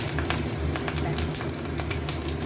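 Green chillies and black cumin (kalo jira) hit hot oil for a tempering, giving a dense, steady sizzle and crackle throughout with faint scattered pops.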